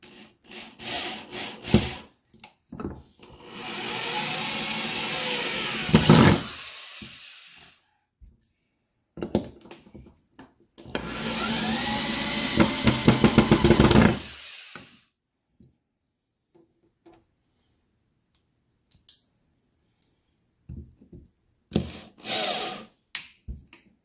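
A power drill whirs into wood in two sustained bursts of several seconds each, separated by quiet pauses and small clicks and knocks.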